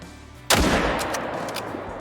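Hunting rifle fired at a buck in the Call of the Wild game: one sharp, loud gunshot after a quiet ambience, followed by a rolling echo that slowly fades.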